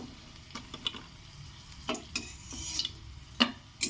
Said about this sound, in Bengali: দিয়ে ভালো করে ভাজা করে নেবো এটাকে